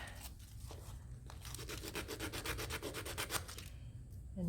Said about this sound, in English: So just a gentle sanding on the sides should make that fit in a lot better.